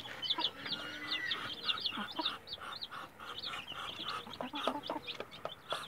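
Hens and chicks peep and cluck together inside a coop, a busy run of rapid high chirps close at hand, fairly soft overall.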